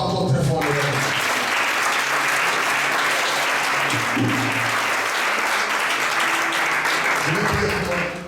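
A church congregation applauds and cheers loudly in praise, sustained dense clapping with voices mixed in throughout, steady and close.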